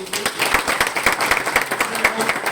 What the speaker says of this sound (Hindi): एक दमदार ताली बजाइए।